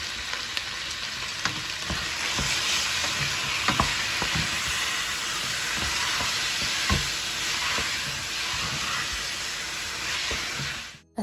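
Minced beef sizzles in a pan with softened onions and peppers, a steady dense hiss and crackle with occasional sharper pops and stirring scrapes throughout, close and continuous.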